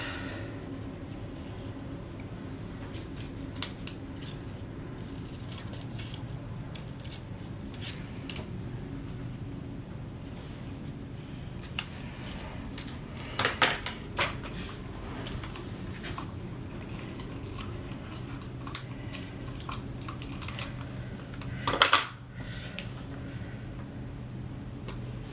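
Scissors snip through paper now and then in a quiet crafting setting, small crisp cuts scattered across a soft background with a brief busier cluster partway through and another near the end.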